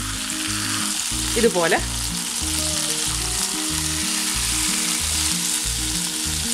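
Tilapia fish frying in hot oil in a Kerala home kitchen, a constant loud sizzle with rhythmic bubbling crackles, a brief clatter partway through and a few spoken words.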